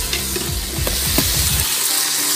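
Ground meat frying in an Instant Pot on saute mode, a close, loud steady sizzle with scraping and stirring knocks from a utensil against the stainless steel pot, no talking.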